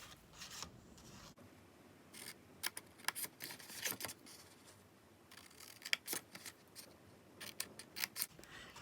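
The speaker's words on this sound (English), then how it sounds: "with your scissors, we're going to cut up on these tabs" Scissors snipping through card, close up, in a series of short irregular cuts with faint rustling of paper between snips.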